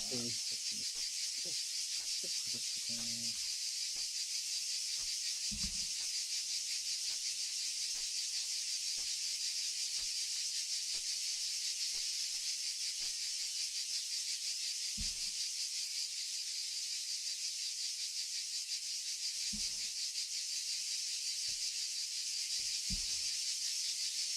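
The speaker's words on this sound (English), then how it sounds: "Sounds like there's a million fucking crickets." Dense, steady chorus of crickets in the nighttime countryside of Arma 3, a constant high-pitched shimmer around a military camp, with a few soft low thumps and brief bursts of radio-like noise early on.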